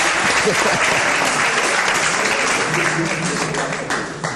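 An audience claps steadily and loudly, sustained applause that tapers slightly toward the end.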